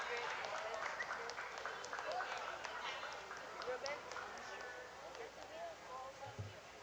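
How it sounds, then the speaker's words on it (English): Audience applause at a primary schools quiz competition for the third-place school team, a steady spread of clapping from a crowd lasting throughout, moderately distant and fairly even. "A round of applause, please."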